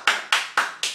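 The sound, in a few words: baby clapping hands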